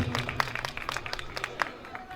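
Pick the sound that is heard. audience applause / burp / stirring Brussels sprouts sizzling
audience applause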